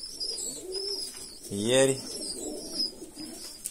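A flock of domestic pigeons is heard, with one clear, near, throaty coo rising out of soft background twittering, as someone speaks briefly.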